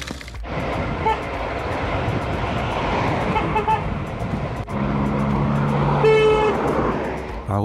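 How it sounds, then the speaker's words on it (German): Road traffic with a steady engine and road rumble throughout, then a long sustained honk from a car horn near the end, loud and close, with no talking. "Warum sind Hupen an Autos mittlerweile nicht eigentlich verboten?"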